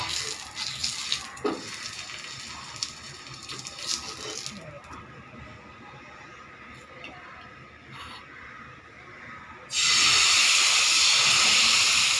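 Sorghum flour batter meets a hot oiled griddle for ghavne: soft rustling and light scraping give way to a sudden loud, steady hiss that holds to the end.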